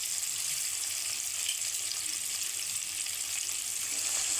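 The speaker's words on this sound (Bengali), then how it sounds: "আলুটা একটু ভেজে নিলাম" Potatoes frying in oil in a pan while fish is being cooked with okra, a steady close sizzle and crackle of hot oil that holds evenly throughout, with no talking over it.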